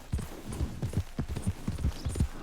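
Horse hooves clip-clop at a steady trot in Red Dead Redemption 2, a close, even rhythm of about a dozen dull thuds with no talk.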